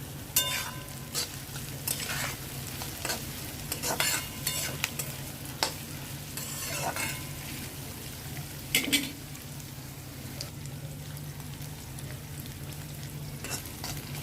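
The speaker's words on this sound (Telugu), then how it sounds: "ఉల్లిపాయలు ఫ్రై అయినాయండి" Salted onions fry in a pan with a continuous steady sizzle, while frequent spatula stirs and clinks break through as sharp, irregular scrapes.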